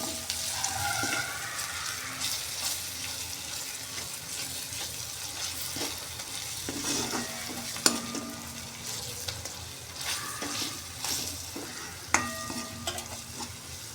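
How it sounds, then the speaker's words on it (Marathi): Turmeric, red chili powder and masala being stirred into frying methi and garlic in a pan, a low steady sizzle broken by repeated spoon scrapes and clinks against the vessel. "तर त्यात आपण अर्धा चमचा हळद, अर्धा चमचा लाल तिखट, अर्धा चमचा मसाला घालून चांगले मिक्स करून घ्यायचे आहे."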